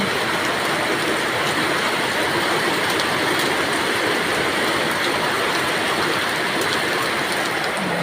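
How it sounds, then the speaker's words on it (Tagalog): Heavy rain pours steadily in a rural province, a dense, unbroken roar of water that stays loud and constant throughout, with no voices heard. "Ang lakas ng ulan guys, kaya hindi ako makalabas"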